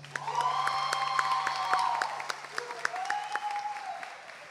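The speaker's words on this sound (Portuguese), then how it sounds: "Para os melhores aplausos de vocês" Audience applause at a live popular music show in Pelotas, a steady wash of clapping with a few cheers that swells, dips briefly and continues, fairly close and full.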